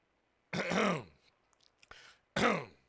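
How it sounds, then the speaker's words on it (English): A person clears their throat twice, loud and close, with a short pause and a few small mouth sounds between the two harsh rasps. "let me clear my throat"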